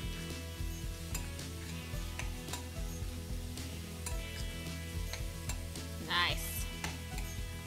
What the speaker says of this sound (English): So we're gonna mix that all together, make sure all the veggies are covered with our liquidy mixtures.